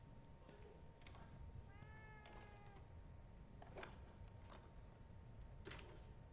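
A cat in a survival-horror video game gives one short, faint meow amid quiet ambient noise, with a few scattered clicks and taps before and after.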